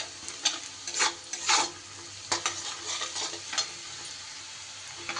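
Chopped onion and garlic fry in a pan for a cabbage dish, with a soft constant sizzle beneath. Several bursts of stirring scrape through it, spaced irregularly, and no one speaks.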